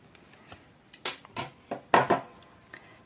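Scissors snip knitted yarn thread, several crisp short cuts in an irregular rhythm, close and clear with quiet gaps between them and no voices.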